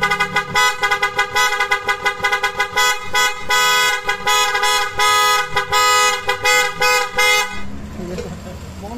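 A stock horn on a Kymco Xciting S400 or Yamaha NMAX V2 scooter honks loudly in a rapid run of short repeated toots for several seconds, then cuts off into quieter background noise and faint voices.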